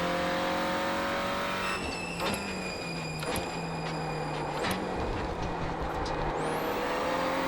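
Renault Clio Cup race cars in iRacing at Rudskogen drone steadily and loudly, engines holding a continuous whine with gear shifts and pitch changes as cars jostle for position, no talk over it.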